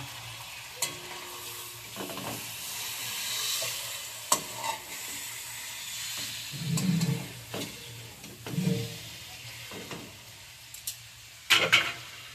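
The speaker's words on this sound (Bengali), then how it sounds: "চিকেনটা আমি লো ফ্লেমে ভালো করে চিকেনটা রোস্ট করে নেব।" Chicken roasting in spices in a pan over a low flame gives a soft, continuous sizzle, with spatula scrapes and stirring knocks now and then and a few louder clattering stirs near the end.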